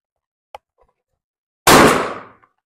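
A single loud gunshot at an outdoor shooting range during marksmanship training, a sharp blast with a ringing decay, preceded by a faint click and otherwise quiet.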